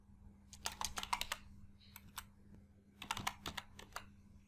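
A computer keyboard tapped while entering a scenario name in Excel, two quick bursts of close, crisp keystrokes separated by a few isolated clicks, with no speech.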